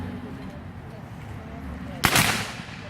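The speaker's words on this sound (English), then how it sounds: "Two long volleys in quick succession scatter the enemy in disarray." A single loud, sharp rifle volley cracks out against outdoor crowd murmur at a Canada Day battle reenactment, ringing briefly before fading.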